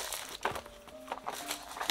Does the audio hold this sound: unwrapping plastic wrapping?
yes